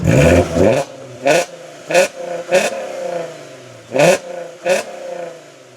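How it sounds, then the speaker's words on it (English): A 2008 VW R32 fitted with a custom exhaust, its engine blipped in a series of sharp, quick revs that rise and fall back to a rumbling idle, loud and close with no talking. "just has that really cool exhaust note"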